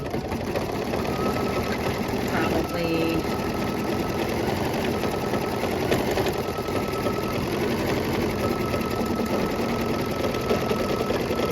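An embroidery machine sewing a bean stitch in white thread, a fast, steady mechanical whir and needle chatter running continuously at moderate volume, with a few brief clicks along the way.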